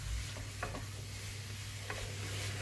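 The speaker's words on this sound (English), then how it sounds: "So we've got all that mince in there now, and just start working that around to brown that meat off" Beef mince with onion and spices for chilli sizzles steadily in a hot pan while being stirred, with a constant close frying hiss and a few soft scraping strokes.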